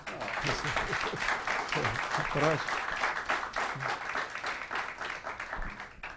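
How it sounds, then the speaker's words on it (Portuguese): An audience at a political talk breaks into steady applause for a general, a dense wash of clapping with voices and murmurs mixed in throughout. "nós nem demos uma salva de palmas para o general"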